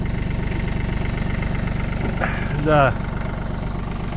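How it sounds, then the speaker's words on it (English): A tractor engine runs steadily with a low, even throb while dragging a box blade through deep snow at an off-grid Alaska homestead; a brief voice speaks over it near the end. "as the tractor is dragging through the snow"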